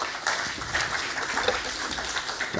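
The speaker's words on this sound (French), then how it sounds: "je vous remercie de l'applaudir" Brief applause from a seminar audience as a speaker is welcomed, a fairly quiet, steady patter of clapping with no talk over it.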